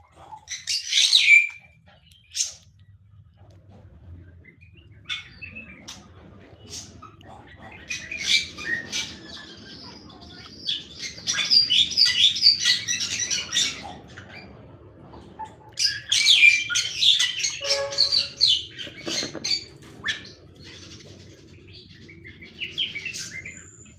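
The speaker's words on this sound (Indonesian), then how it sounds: "Nah, ini udah pada ngantri minta makan tuh." Birds in an aviary cluster in a queue begging for food, sending out bursts of high, rapid chirps and squeaky calls, close and lively, with quieter gaps between the flurries.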